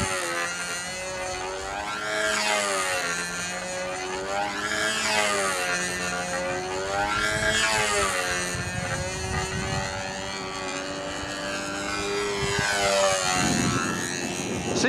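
A Windy U Master control line model airplane's small glow engine drones in flight, its high buzzing pitch rising and falling as the plane circles, loud and continuous without speech.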